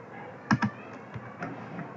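A few sparse keyboard clicks, two quick close taps followed by lighter scattered keystrokes, near and alone.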